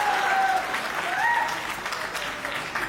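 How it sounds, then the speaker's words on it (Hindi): An audience at a Hindi comedy or poetry stage show breaks into loud, sustained applause, dense clapping that fills the room and tails off slightly toward the end, with faint voices mixed in. "और आप लोगों को तालियां बजानी ही होगी"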